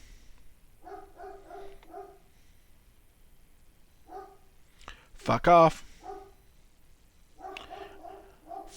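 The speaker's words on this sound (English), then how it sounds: "And my dog has opinions about that fact." A dog barks in short repeated bursts of sharp yaps, some in quick runs of three or four, with a brief loud outburst of a voice in the middle.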